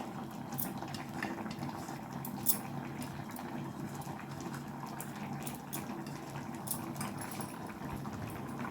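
A pot of mixed dal simmering on the stove with coriander, giving a soft, steady bubbling and faint popping close by, quiet and continuous with no talk.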